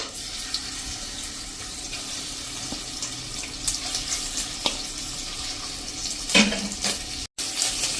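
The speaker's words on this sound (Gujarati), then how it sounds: "એને જ આપણે તેલમાં નાખીને અને સાંતળી લેશું" Spice masala sautéing in hot oil for an onion curry over a low flame, a soft continuous sizzle and crackle with faint clinks of stirring in a quiet kitchen.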